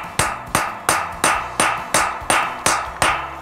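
A hammer strikes a concrete anchor into a concrete floor with about ten sharp, evenly spaced metallic blows, each ringing briefly before the next, close and loud with no talk.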